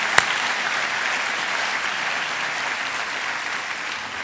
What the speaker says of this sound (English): Can you please give Domino's and Glenn and his team a round of applause?